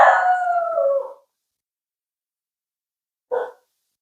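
A pet dog howls loudly and close by in a home, one long wavering howl of about a second, then silence, then a short second yelp.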